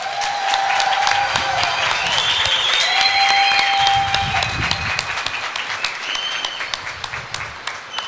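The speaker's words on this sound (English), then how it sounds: "Please give them a round of applause." Graduation crowd applauding standing graduates who have served or will serve, a lively mass of clapping with scattered cheers and whistles, strong at first and thinning into individual claps toward the end.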